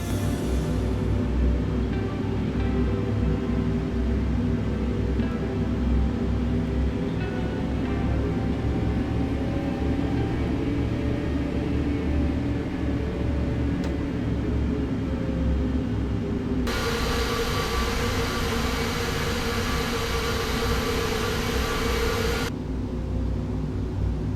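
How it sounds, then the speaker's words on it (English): Airplane taxiing toward the runway in the flight simulator Aerofly FS Global, a steady loud engine drone and rumble held throughout, with a brief higher-pitched whine layered in near the end, no talk. "it is now time to taxi this plane up to the runway"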